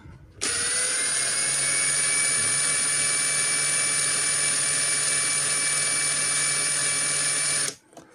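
A Bultrax 18V cordless impact driver spinning freely at its low speed setting, a loud steady high-pitched whine held for about seven seconds close up.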